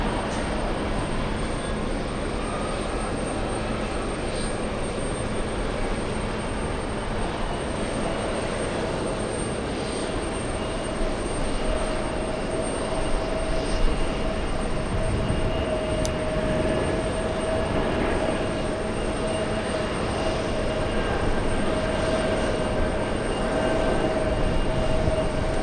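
A High Sky Airbus A330-200 arriving from Bucharest lands at JFK airport, heard as a steady, broad jet engine roar with a faint whine that holds for the whole stretch, moderately loud and without any talking.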